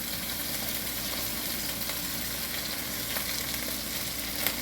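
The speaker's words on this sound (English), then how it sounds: "Oh, listen to that sizzle." Ground beef sizzles steadily in a hot skillet, a dense continuous crackle close by with occasional small pops, no voices.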